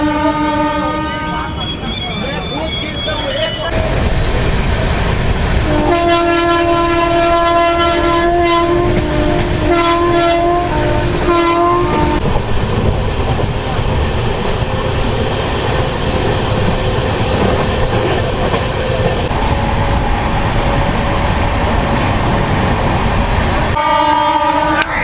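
The Silchar to Coimbatore express rolls along with a steady loud rumble and rhythmic clatter of wheels, its horn sounding in long toots near the start and again in the middle, with faint voices mixed under the noise.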